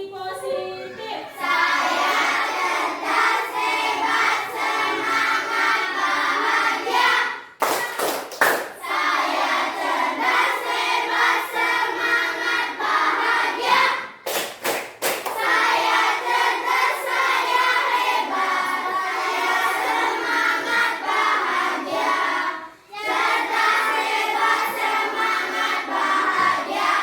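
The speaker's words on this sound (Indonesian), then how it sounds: "Tepuk afirmasi positif." A class of primary school children does a rhythmic positive-affirmation clap in unison, long steady patterned clapping broken by a few short pauses, loud and close, with some voices chanting along.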